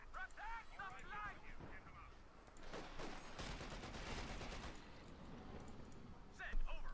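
Bursts of .50 caliber machine gun fire from Company of Heroes 2 chatter through a busy battle mix, with a voice talking over the shooting.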